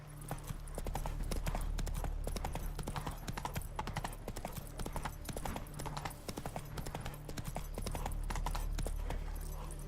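Roach the horse gallops in Witcher 3, hooves beating a rapid, continuous clip-clop over a low steady rumble, with occasional faint horse noises and moderate loudness.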